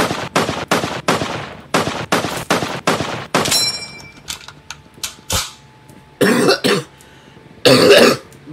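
M1 Garand rifle shots in a video game, about seven evenly spaced loud cracks in quick succession, followed by clicks and a few more scattered bursts of gunfire.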